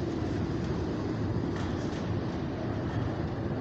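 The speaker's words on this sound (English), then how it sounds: "Thanks a lot, train." Airport train at Denver Airport rumbling steadily along the track, a continuous close, loud broadband roar with no clear breaks or voices.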